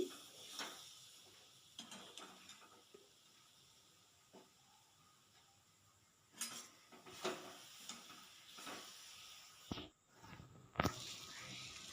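Pickle in a pan, with lemon juice just added, is stirred in a quiet kitchen: scattered soft scrapes and light clinks of the spoon against the pan, a few sharper knocks near the end, and no voices.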